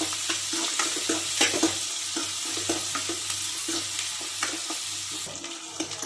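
Onions and green chillies sauté in a pan for a potato masala, a steady close sizzle broken by repeated scraping stirs.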